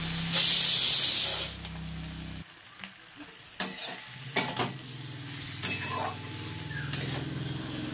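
Potatoes and eggplant hit a pan of hot oil with a loud initial sizzle that settles into a steady frying hiss, broken by a few sharp stirring scrapes and spatters.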